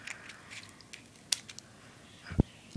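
Scissors trim tape on a paper model, heard as a couple of faint, sharp snips against quiet background rustling, with one crisp cut standing out near the end.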